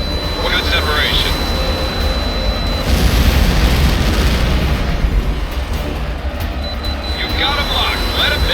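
Rumbling explosions of enemy ships in the jet combat game Tom Clancy's HAWX, a sustained loud roar with booming swells, plus intermittent high radio-like chirps.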